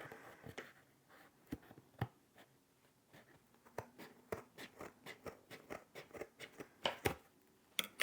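Scissors cutting through craft material in a craft room, a long run of sharp, irregular snips and crunches up close, fairly quiet with no talking.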